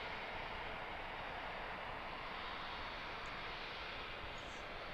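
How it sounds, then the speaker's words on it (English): An Airbus A321 arriving at Harrisburg airport after landing fills the air with a loud, steady broadband jet engine roar that stays constant without letup. "A321 that just landed from Dallas"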